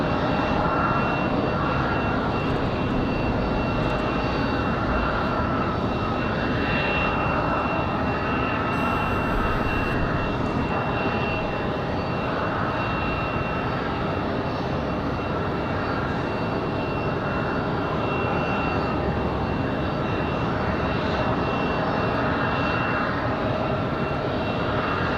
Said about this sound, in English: So Denver flight turning on final.